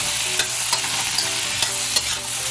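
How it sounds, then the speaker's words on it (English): Kale, squash and onion sautéing with olive spread in a pan, a steady close sizzle broken by regular scraping stirs about every half second. "we're going to add our olive spread to it. Okay, and just saute that all."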